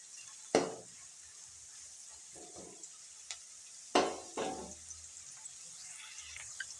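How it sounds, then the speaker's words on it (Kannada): Onions frying lightly with a pinch of salt in a pan while cooking a field-bean (avarekai) stir-fry: a soft sizzle under a few sharp stirring scrapes and clinks of a spoon against the pan, quiet and close, with no talking. "ಈರುಳ್ಳಿ ಲಘು ಫ್ರೈ ಆಗಲಿ ಅಂತೇಳಿ ಸ್ವಲ್ಪ ಹಾಕ್ಯಾನ ಉಪ್ಪು"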